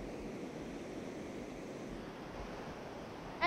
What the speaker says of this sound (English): And we will look at the Hukou Waterfall.